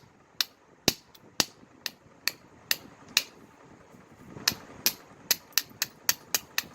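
Sharp, clicky strikes of a deer tine and hammerstone against flint while knapping an arrowhead, about a dozen and a half distinct taps in an uneven rhythm, close and alone, faster toward the end.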